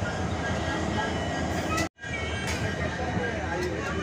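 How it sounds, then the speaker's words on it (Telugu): Visakha Express pulling out of Sompeta station: a loud, steady rumble and clatter of the train rolling close by, briefly cut off by a moment of silence, with faint voices mixed in. "ట్రైన్ అనేది డిపార్చర్ అయిపోతుంది ఫ్రెండ్స్"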